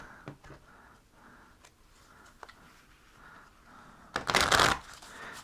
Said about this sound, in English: Just give a quick shuffle here.